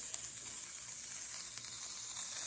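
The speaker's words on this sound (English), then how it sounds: "you are literally just letting the onions grill" Onions sizzle steadily in a hot skillet, a constant bright hiss with faint pops, close by and uninterrupted, no talking.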